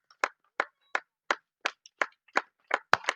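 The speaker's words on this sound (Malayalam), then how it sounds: "കയ്യടി." Applause at an award moment during a defence academy gathering: about nine sharp, evenly spaced hand claps, close and fairly loud, with no talking.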